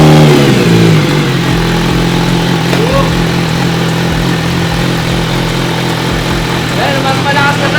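MV Agusta Brutale 1000RR motorcycle fitted with an Orion exhaust revving close by, a loud, steady engine drone with rising throttle blips, while a voice talks over part of it.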